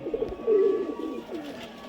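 Close, repeated low cooing from Andhra Mangalgiri breeder pigeons, with one loud, drawn-out coo followed by softer rolling calls.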